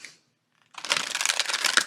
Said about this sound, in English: That shuffles a lot better than the overhand.